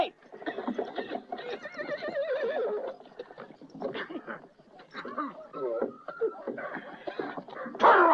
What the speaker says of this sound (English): Jack, I found a horse.